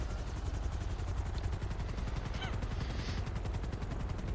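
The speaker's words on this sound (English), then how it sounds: "Oh, there goes the helicopter." A helicopter in the GTA V FiveM video game keeps up a steady, fast rotor chop with broadband whine, loud and continuous throughout, with faint game noises over it.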